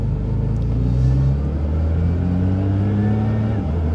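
A 1500 hp Nissan GT-R R35 rumbles close by, its engine note rising and holding through a gear change in a steady, heavy drone, with people talking over it.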